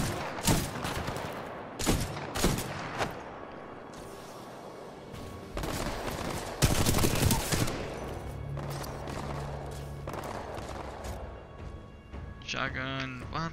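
Shotgun and other gunfire in the video game Titanfall 2, loud repeated blasts and bursts of shots clustered in several volleys, mixed with mechanical clatter and game effects.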